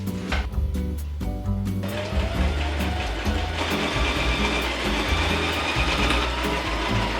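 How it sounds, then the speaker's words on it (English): A sewing machine stitches around the perimeter of a bag lining for a crocheted bag with a zipper, its rapid motor whir and mechanical clatter running close and continuous with a few brief pauses, no voices. "We're gonna go sew around the perimeter now."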